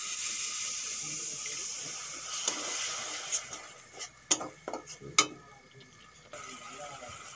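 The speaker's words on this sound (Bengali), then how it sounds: "সামান্য একটু জল দিয়ে দেব।" A small splash of water pours into a pot of spiced, simmering bottle gourd (lau). The steady close-up trickle and wash is broken by a few sharp clinks and stirring knocks.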